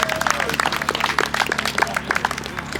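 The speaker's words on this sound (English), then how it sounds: "Give yourself a round of applause." Crowd applause at an Australian car show, a burst of many hands clapping at close range, with a voice talking over it.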